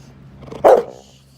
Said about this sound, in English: Stop barking. That's not nice.